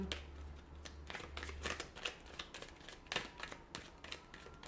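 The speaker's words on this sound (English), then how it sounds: "we'll give the cards a shuffle" A deck of tarot cards being shuffled up close, a run of soft papery riffles and flicks in irregular bursts, quiet and steady, with no talking.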